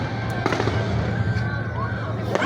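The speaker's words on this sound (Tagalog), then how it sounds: "Fireworks yan dito." A fireworks display at Mall of Asia, with sharp bursts and crackling pops over a loud, continuous crowd and ambient rumble. Voices are heard in the background.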